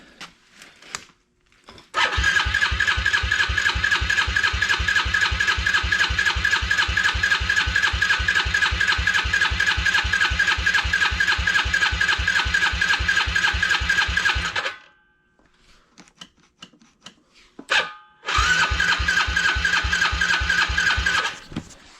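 A Yamaha TTR-110 dirt bike engine struggling through cold start attempts, cranking in a long rapid chugging run, pausing, then a short burst, then another stretch of fast rhythmic cranking, loud and close.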